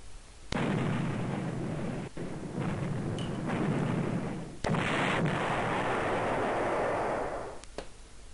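Heavy booming blasts of artillery fire in the Panzer General war strategy game, a sustained roaring rumble broken by a few sharp cracks and a second loud impact, with no voices.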